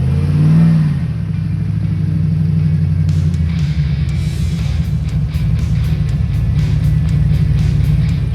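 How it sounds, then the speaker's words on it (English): A recovery vehicle pulls up along an off-road trail after a breakdown, its engine a steady, close, low rumble with light clatter and a few revs as it arrives. "Here comes our recovery vehicle."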